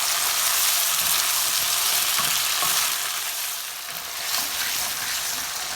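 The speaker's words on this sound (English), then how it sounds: "I've mixed all the sauces very nicely." Chilli chicken frying in a pan as soya and red chilli sauces are mixed in, a loud continuous sizzle with faint stirring scrapes, close and steady throughout, with no voices.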